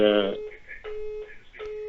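A second telephone rings in the background during a phone interview, giving repeated bursts of electronic ringing tones with short gaps between them. A voice is briefly heard at the start.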